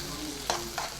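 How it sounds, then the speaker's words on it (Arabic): Chicken and onion being stirred in a frying pan, a steady sizzle of frying broken by three short scraping bursts of the utensil against the pan. "ونقلبه بقى عشان الفراخ ما تتحرقش"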